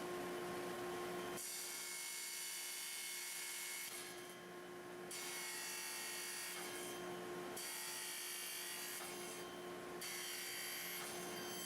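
Power saw nibbling away waste wood to form a tenon, a loud continuous whine in repeated passes of about two to three seconds each, broken by brief drops where the blade leaves the cut.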